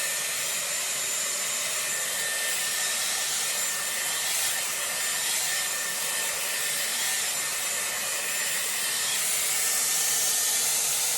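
A Dyson Airwrap with its round brush attachment blow-dries hair in a steady, loud, airy roar that runs without a break, with no talking.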